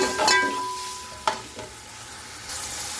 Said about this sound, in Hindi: इसको मैं थोड़ा सा हल्का सा करूँगी पहले फ्राई।